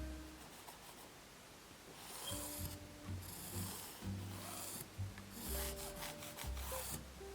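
Pen drawn across quilting fabric from corner to corner, quiet scratchy rubbing strokes in short bursts, faint and close with no talking.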